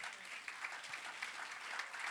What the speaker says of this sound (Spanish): El que lo crea, dele un aplauso al Señor.